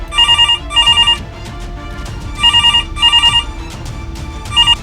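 A telephone ringing in repeated double bursts of bright electronic trills, several rings spaced by short pauses, loud and close with no talking.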